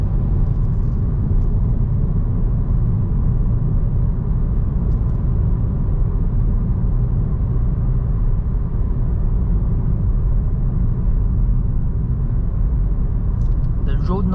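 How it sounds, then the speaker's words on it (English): Constant low rumble of tires rolling on pavement inside a moving 2022 Kia Stonic 1.4 petrol, a steady dense roar with no break throughout. "I do get a lot of tire noise"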